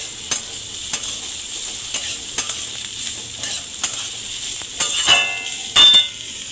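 Pav bhaji vegetables are stir-fried in a pan with a steady hiss of sizzling and a few scrapes and clinks of the spatula stirring them. The sounds are close, with no talking.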